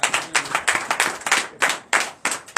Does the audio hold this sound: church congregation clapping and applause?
yes